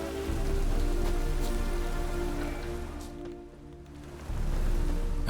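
Steady rain patters down in The Witcher 3 as a dense, even hiss of drops on surfaces. It eases briefly near the middle, then returns at full strength, with no talking.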